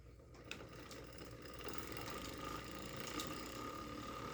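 Old, rickety great wheel spinning wheel turning steadily while spinning thread, with a continuous ratcheting, clicking mechanical whir at moderate level and no voices.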